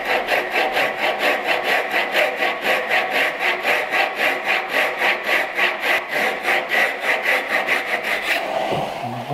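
A miter jack saw cutting a wooden tenon, steady rhythmic back-and-forth rasping strokes, close and even, around two strokes per second, ending with a final scrape.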